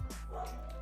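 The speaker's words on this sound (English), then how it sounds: "These dogs are going nuts" A dog lets out a single short bark or yip, close and moderately loud, with a faint steady background hum and no speech.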